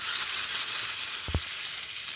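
Water poured over hot frying onions in a pan while cooking Egyptian koshari, a faint, steady sizzle with one brief soft bump partway through.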